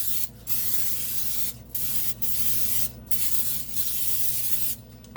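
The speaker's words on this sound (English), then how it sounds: "I'm gonna spray this with Pam." Pam cooking spray hisses into a baking dish in several bursts of varied length, broad and steady each time, with short quiet gaps between sprays and no talking.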